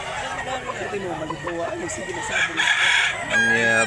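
A two-year-old white rooster with blue-black legs in Mantalungon, Cebu, clucks and then lets out a loud crow near the end, with someone talking over and between the calls.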